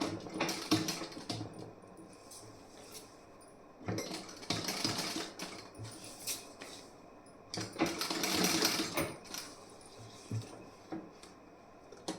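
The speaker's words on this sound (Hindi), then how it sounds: "यहाँ पे आपको ऐसे सिलाई लगा देनी है।" A sewing machine stitching the back piece of a garment runs in several short bursts of rapid needle chatter, with quieter pauses and handling between them.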